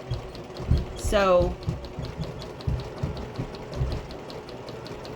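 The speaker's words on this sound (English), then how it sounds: "I'm just going to stitch right in the ditch between the two pieces" A sewing machine runs steadily while stitching in the ditch between two quilted fabric pieces for a zipper bag, with a rapid mechanical hum under a person speaking.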